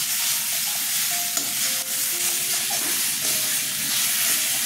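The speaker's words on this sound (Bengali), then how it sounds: "আমি সবসময় মশলা কষিয়ে তারপরে সবজি মাছ ছাড়ি।" Spice paste tempered with nigella seeds and green chilli fries in a pan for a rohu-style fish curry, giving a loud, constant close-up sizzle with soft stirring scrapes and no talking.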